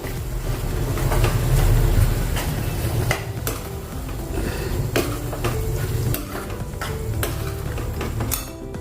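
Poppy seeds are stirred in a cooking pan, with a constant sizzling hiss and repeated metallic scrapes and clinks of a spoon against the pan, loud and close, with no talking.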